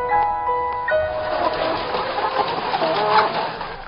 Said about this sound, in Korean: 암탉은 작은 철제우리에서 평생 달걀만 낳는다.